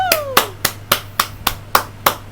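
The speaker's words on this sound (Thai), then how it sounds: "ปรบมือในความพยายามของผมครับ" One person claps nine times in an even, deliberate rhythm, crisp and close, with a brief voice at the start and a low steady hum underneath.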